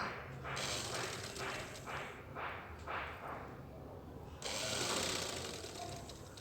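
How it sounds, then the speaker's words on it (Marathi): A sewing machine runs in rapid mechanical bursts, stitching golden trim onto a blouse, with a rhythmic clatter that speeds and pauses, close and moderately loud. "अशा प्रकारे ठेवून आपण टीप मारणार आहोत."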